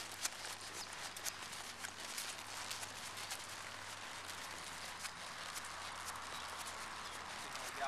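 A horse named Gunner walks steadily forward during schooling, hooves clip-clopping faintly in an even rhythm beneath a steady broadband background hiss.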